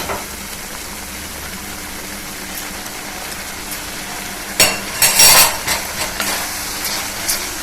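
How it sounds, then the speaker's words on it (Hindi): Masala gravy sizzles in oil as it is sautéed for an arbi curry, with a steady low hiss and a few louder bursts of stirring and scraping partway through. "और इसको हम तेल छोड़ने तक इसी तरह से भून लेंगे।"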